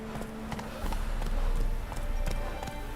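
Roach the horse galloping in The Witcher 3: Wild Hunt, with steady rhythmic hoofbeats close by over a low rumble of game ambience.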